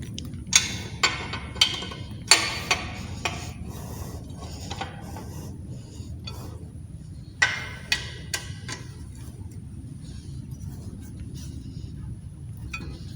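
Metallic ratcheting clicks come in short clustered bursts over a low background hum as a T12 T-wrench tightens differential bolts on a Toyota Kijang. The clicks are fairly close, pause in the middle, then resume.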